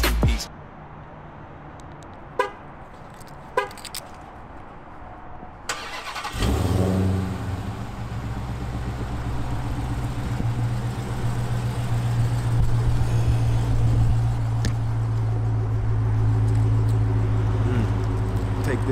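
A car engine cranks and fires up, then idles roughly and revs louder as it runs, close and throaty, with a few thumps and brief voices before it starts.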